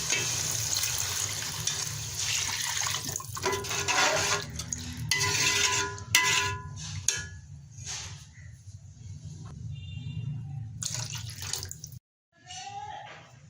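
Water poured into a pot of fried peas and chicken cubes for matar pulao, a steady splashing pour with pot clatter running most of the way, close and fairly loud, then a brief gap near the end.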